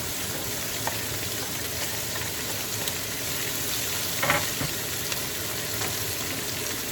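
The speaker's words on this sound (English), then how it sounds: "I'm going to dump my tomatoes in there, and I'm going to dump my peppers in there." Tomatoes and peppers tipped into a hot frying pan for a chicken dinner, giving a steady close sizzle with a brief clatter as they land, no voices.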